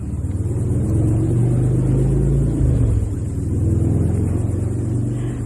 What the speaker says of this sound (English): Apparently there's a road close by because I'm hearing motorcycles.